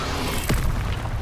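A Levioso spell cast in the video game Hogwarts Legacy, a short whooshing boom with a quick rising sweep, loud and close over a dense game background.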